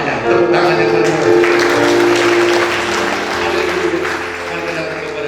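Church congregation at an Easter Sunday service clapping together, sustained full applause lasting several seconds, fairly loud and close, with some voices mixed in.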